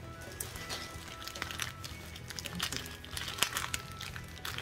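A wrapped parcel is being opened, with steady close crinkling and crumpling of packaging and tape, faint and continuous with small sharp crackles and no speech.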